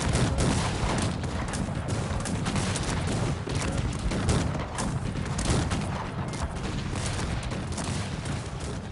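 Howitzer artillery fire in the strategy game Cossacks 3, a steady, dense barrage of overlapping booms and cracks rumbling on without pause, loud and busy throughout.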